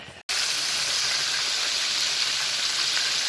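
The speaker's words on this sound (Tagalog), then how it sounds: "nagpiprito na ako ng tilapia" Tilapia frying in a pan gives off a steady, even sizzle and hiss that carries on unbroken after a momentary cut near the start.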